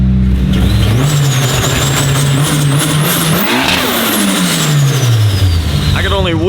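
Nissan SR turbo engine of a JDM drift car revving loudly and continuously, pitch climbing and falling through repeated throttle blips with a rising whine, close and dominant throughout.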